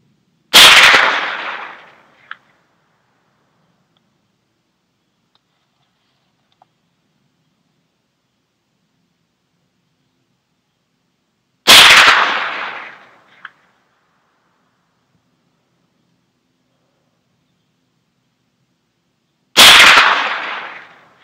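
Three sharp Ruger 10/22 rifle shots with Mini-Mag rounds, each loud crack followed by a brief faint echo, spaced roughly ten and eight seconds apart with silence between.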